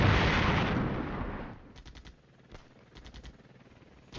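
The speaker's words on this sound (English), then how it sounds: "And here we go. Artillery again." Artillery fire in the wargame Flashpoint Campaign: Red Storm, opening with a heavy rumbling blast that fades out, followed by scattered sharp cracks and small bursts of impacts further off.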